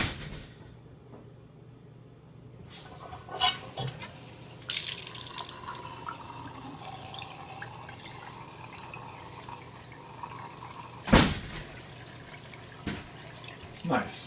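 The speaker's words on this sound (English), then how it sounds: "leave both the hot and cold open with the aerator out and just run outside and turn the water on" Water runs steadily from an open wall faucet with the aerator removed, a soft continuous hiss with a few louder splashes and clunks along the way; no one speaks.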